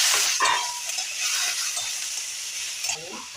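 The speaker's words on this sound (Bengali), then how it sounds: "এবার এগুলো ভাজা হয়ে গেছে, এবার কাঁচা লঙ্কা একটা দেওয়া হচ্ছে" Garlic and green chili fry in a pan for mint chutney, a loud bright sizzle that eases slightly, with a few stirring scrapes and faint handling noises nearby.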